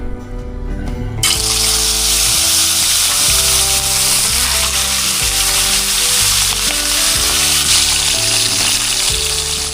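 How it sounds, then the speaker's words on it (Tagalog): Tilapia fish frying in hot oil, a loud continuous crackling sizzle that bursts in suddenly after a quieter moment and then holds steady, close and dense, with no talking. "Prito na po natin itong ating mga tilapia."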